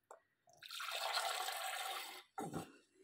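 Water poured into a small cup holding orchid roots, a steady trickling pour of about one and a half seconds, close and clear, followed by a short splash.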